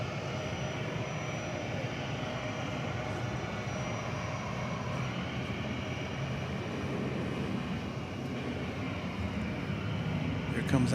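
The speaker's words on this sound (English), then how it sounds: "Comes that 757 into park." A Boeing 757 taxis into its parking spot at DFW Airport at night, a steady distant jet engine whine and rumble that swells slightly toward the end, heard alone.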